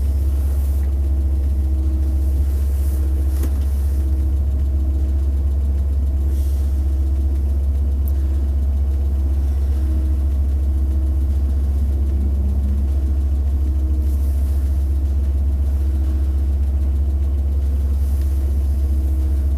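A car with a ZMZ 406 engine on the highway gives a loud, steady low rumble and drone from inside the cabin, unbroken throughout with slight variations in road noise.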